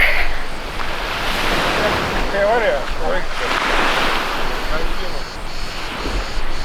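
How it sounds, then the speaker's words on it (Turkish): Sea waves break on a shore in steady surges of washing surf, mixed with wind buffeting the microphone, while someone talks over it. "Güzel bir Deniz şurada, arkamda, orada."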